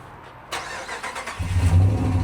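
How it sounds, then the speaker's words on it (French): A Dodge RAM truck engine with an old, worn exhaust kicks in after a brief quiet moment, a rough mid-pitched rumble that swells into a deeper, louder throaty drone heard up close. "Il a un vieil échappement miteux, frérot."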